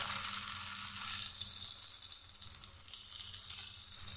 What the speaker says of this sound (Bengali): রসুন বাটা, পেঁয়াজ বাটা ওটা দিয়ে আমি একটু ভেজে নিচ্ছি।